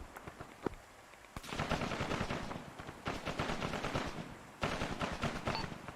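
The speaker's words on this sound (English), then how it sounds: "he's getting gendarmerie that are firing on him" Gendarmerie forces open fire in an Arma 3 combat operation, with dense, continuous automatic gunfire and rapid bursts of shots that crackle on for several seconds, some sharp reports standing out louder, and no voices.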